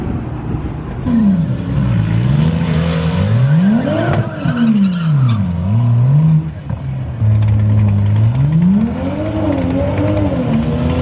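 A BMW M235i on a race track track day, engine revving up and down through gears with rising and falling pitch, loud and continuous, with some tire noise.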